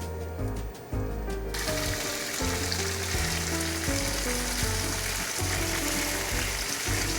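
Tofu skin rolls brushed with turmeric sizzle in oil in a pan, opening side down, for a vegan dish. After a brief quieter start, a steady crackling fry holds under soft background music.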